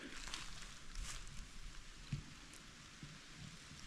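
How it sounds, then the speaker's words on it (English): Steady, faint rain hisses continuously in a West Virginia woodland during deer season, with soft low rumbling underneath, no voices present. "starting to rain again"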